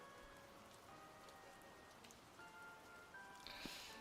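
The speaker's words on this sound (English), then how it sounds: "You guys can just listen to the rain sounds until I get back." Steady rain patters on a surface, a soft continuous hiss of drops that stays even and gentle throughout, with a faint brighter burst near the end and no voices.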